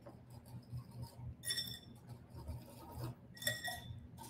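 A whisk clinks against a glass bowl while mixing chocolate chess pie filling: quiet, scattered chinks in two brief clusters over a soft rubbing, with no voices.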